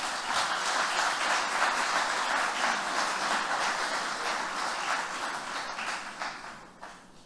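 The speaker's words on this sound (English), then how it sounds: "A big round of applause for him," An audience at a master's graduation ceremony in a law department gives a speaker a sustained round of applause, dense clapping that holds steady and then thins out and fades toward the end.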